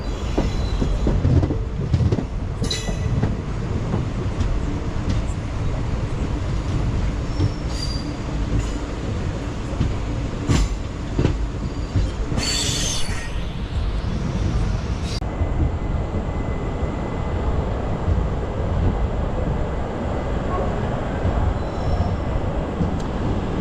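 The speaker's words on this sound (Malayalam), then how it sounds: "ഇവിടെ ട്രെയിൻ പിടിച്ചിട്ട് സുഹൃത്തുക്കളെ." A train pulls into Nagercoil Junction with a loud, close rumble and clattering wheels. High wheel squeals and brake hisses rise as it slows, and no voices are heard.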